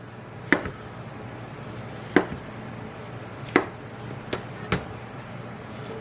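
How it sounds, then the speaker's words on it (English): A knife slices a vegetable for a vegan pot roast, striking the cutting board in five sharp, spaced chops that sound close over a quiet background hum. "Then I'm going to slice it. Not too thin."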